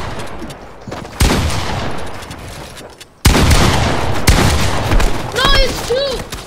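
Loud gunfire in a Fortnite arena match, dense bursts of close shots and booms running almost continuously, with a sudden loud jump midway and chirpy game effects near the end.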